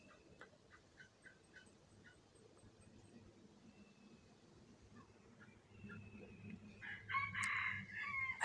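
Wild red junglefowl crowing in the outdoors, a faint distant crow late in the clip over quiet rustling background, with a soft clucking sound nearby.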